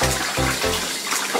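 Water sloshing and splashing while laundry is hand-washed, several close bursts of splashing that break off, then quieter dripping and trickling.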